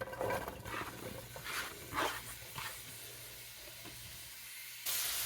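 Cumin seeds, onion and garlic tossed together into hot oil sizzle in a few bright, crackling bursts that settle into a steady, close frying hiss, with no voices.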